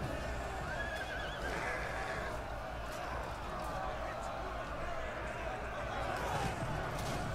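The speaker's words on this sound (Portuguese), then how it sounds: "Muitos cavalos sem dono passando correndo" Riderless horses galloping across a battlefield in the video game Total War: Attila, with repeated whinnying and hoof clatter over dense battle noise and crowd clamor, under someone talking.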